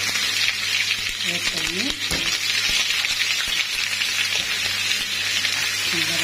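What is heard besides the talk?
onions frying in very hot oil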